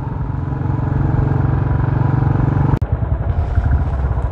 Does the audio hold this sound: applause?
no